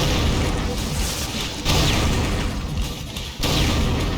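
Old-style guns firing in the Brutal Doom video game, a continuous loud barrage of booming blasts with sharp new volleys kicking in at intervals.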